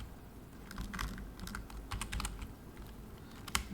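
Close, fairly quiet typing on a computer keyboard while code is entered, with uneven bursts of key clicks and short pauses.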